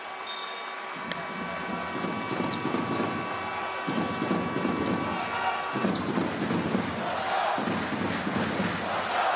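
International basketball crowd in an arena in Amman during a Jordan game, a loud continuous roar of many voices with surging chants and a rumbling low din, steady and filling the hall throughout.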